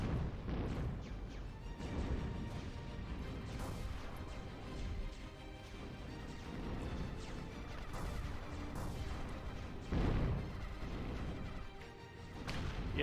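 Sling artillery units in the strategy game Zero-K pounding enemy defenses: a dense, continuous barrage of booming shots and crunching impacts at steady loudness throughout, with heavier thumps standing out now and then.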